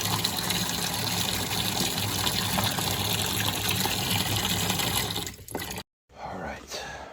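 Water gushes steadily from the drain of a Rheem water heater with a failing T&P valve, flushing stirred-up tank sediment in a loud, continuous rush that cuts off briefly near the end, then resumes.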